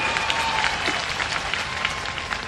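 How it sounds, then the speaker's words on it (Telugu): A crowd of TDP party workers applauds loudly at a Jana Chaitanya Yatra rally in Vizag, with dense, continuous clapping at a steady level throughout. "గట్టిగా చప్పట్లు కొట్టి ప్రతి ఒక్క కార్యకర్త ఆమోదాన్ని తెలియజేయాలి"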